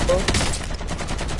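AK rifle gunfire in Warzone pours out as a loud, sustained burst of rapid shots filling the whole moment, close and dense with no pause.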